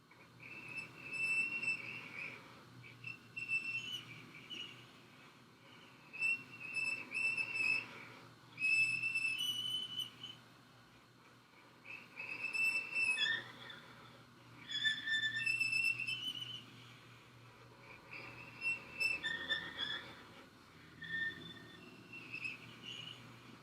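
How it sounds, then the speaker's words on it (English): A bow drawn in circles behind the bridge of a string instrument gives a string of high, airy, whistling squeaks over a soft, noisy bed, coming in uneven bursts with short pauses, close and quiet, with no voices. "Circular bowing behind the bridge."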